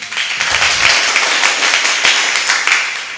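A church congregation claps loudly and steadily for several seconds, a dense wash of hand claps with no voices over it.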